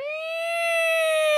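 A podcast's email-alert siren effect sounds as one steady, loud electronic wail with a bright harmonic tone, holding pitch and swelling slightly, alone without talk.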